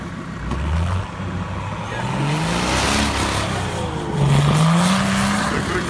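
A Nissan Patrol with a 2.8 engine pushes through deep snow, its engine note rising and falling through several rev climbs, loud and close with a steady rumbling undertone.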